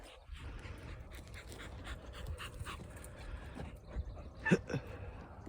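A hunting dog out on a rabbit hunt pants steadily and close by in quick, rhythmic breaths, with a few faint whimpers and a brief sharper yip near the end.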